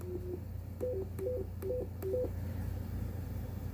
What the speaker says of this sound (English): you hear how when I touch it, there's an immediate start and stop.